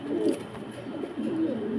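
Pigeons on a farm cooing up close, with soft, throaty, repeated rolling coos in short overlapping phrases over a quiet background.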